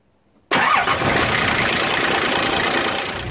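A Nissan Patrol engine cranks and fires after a half-second of quiet, catching abruptly and settling into a loud, steady idle close by.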